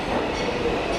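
A New York City subway train rumbles steadily underground, a loud, continuous roar of wheels and cars with no pauses.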